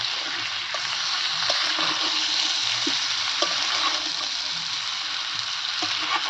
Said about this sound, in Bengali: এই মশলাটা দিয়ে ফুলকপিটা একটুখানি কষিয়ে নিয়ে